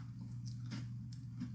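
Someone chews small crunchy sesame hardtack biscuits close to the microphone, giving a few crisp bites and squishy munches over a steady low hum.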